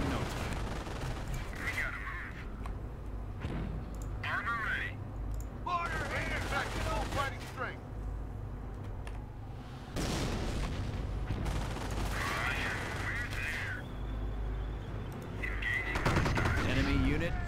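Battle din from Company of Heroes set in Cherbourg, with dense rifle and machine-gun fire crackling continuously, bursts of fusillade over a rumbling backdrop and faint voices in the mix.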